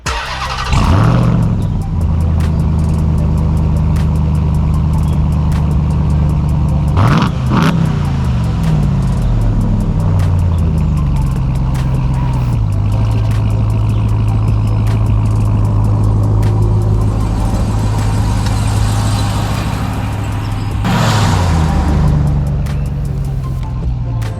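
A Ram pickup truck engine rumbles steadily nearby, revving up several times as it moves, with no talking.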